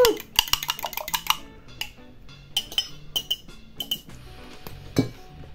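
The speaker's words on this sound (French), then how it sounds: "maintenant je vais faire mon mélange" Onion, chopped potatoes, parsley and beaten eggs mixed together in a dish for onion potato pancakes, giving a run of close, bright clinks and taps of utensil against the dish in an uneven rhythm, with no talking.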